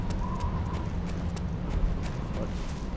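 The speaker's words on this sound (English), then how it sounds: "I hear footsteps, like a lot of footsteps." Many rapid footsteps in the video game Metal Gear Solid 4, a busy patter of steps blended with a steady background rumble and game ambience, moderately loud and continuous.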